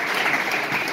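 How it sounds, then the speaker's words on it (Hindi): Guests at a Caleb and Syzelle engagement ceremony clap together in a close, continuous burst of handclaps with no talk over it. "Clap your hands for that."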